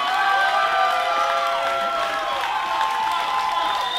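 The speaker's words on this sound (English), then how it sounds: "you can hear the crowd live here in Houston, Texas, going crazy" Crowd at a breakdancing awards ceremony in Houston, Texas, cheering and shouting continuously, a loud dense roar with whoops and applause mixed in.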